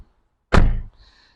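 A Lexus LX 4.5 diesel car door swings shut with a single solid, muffled thunk that fades quickly, followed by a faint short hiss, all in near silence.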